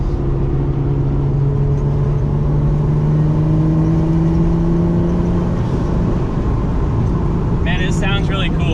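A Nissan Skyline accelerates in second gear on a back road, heard from inside as a loud, steady engine drone with a slowly rising tone, and a voice briefly cuts in near the end.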